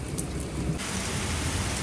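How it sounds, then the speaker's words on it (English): Heavy rain pours steadily in New York City during a hot-day thunderstorm, a dense close hiss of drops with a low rumble of thunder underneath and no voices. "and here comes the rain"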